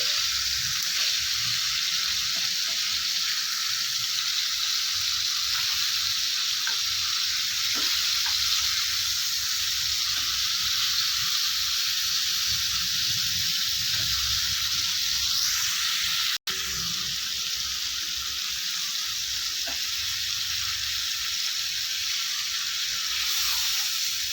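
Tandoori chicken sizzles steadily in a pan on high flame, a continuous loud frying hiss with faint crackles throughout and one brief dropout partway through.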